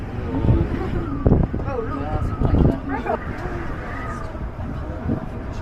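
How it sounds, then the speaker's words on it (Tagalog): Strong wind buffets and rumbles against the microphone while a person talks over it outdoors at Owakudani, an active volcano area in Hakone, Japan. "Grabe, ang lakas ng hangin."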